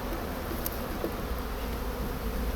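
Buckfast honeybees hum at an open hive frame from a weak nucleus colony, a dense, steady, close buzz that continues without a break and with no speech over it.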